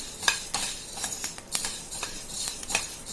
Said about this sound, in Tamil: பொரிகிற சவுண்டு கேட்குதுன்னு நினைக்கிறேன்.